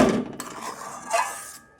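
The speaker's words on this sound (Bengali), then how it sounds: "দিয়ে ভালো করে ফেটিয়ে নেব সুজির সঙ্গে, মানে খুন্তি দিয়ে নেড়ে চেড়ে মিশিয়ে নেব।" A metal spatula stirs a semolina batter mixed with yogurt and flour in a bowl, giving a few close scrapes and light clinks against the sides in a short, uneven burst that fades out.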